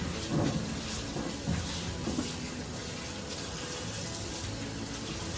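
Cold water runs steadily from a tap over watercress being soaked, splashing and gurgling softly at close range, with no voices.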